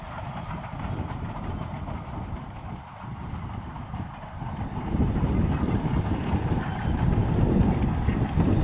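A Rio Grande 425 steam locomotive from 1917 pulls a passenger train into Antonito on the Cumbres and Toltec, rumbling steadily nearby, its low drone growing louder partway through, with faint rail clatter and no voices.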